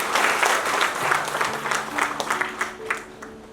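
A church congregation at a sister fellowship gathering applauds in thanks to God, a loud round of clapping that gradually thins and fades, with faint sustained instrumental tones underneath.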